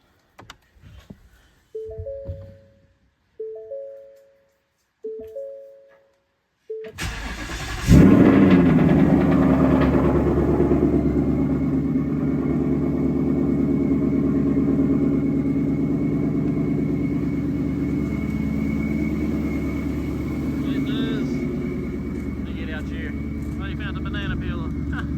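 A 2018 Ford Mustang GT with long tube headers cold starts, preceded by a few short electronic chimes. The V8 catches with a sudden loud roar, then settles into a steady, rumbling high idle that carries on to the end.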